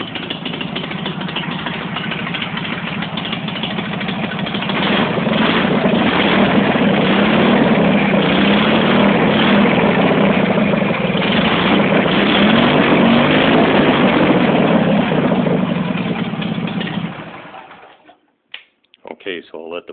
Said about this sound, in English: if you want to know what a Ural sounds like with just the header pipes